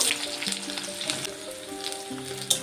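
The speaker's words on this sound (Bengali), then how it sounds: "তেলটা গরম হয়ে গেছে, পেঁয়াজগুলো দিয়ে দেব।" Onions hiss and crackle as they fry in hot oil, a close, fairly soft sizzle with occasional stirring sounds and no voices.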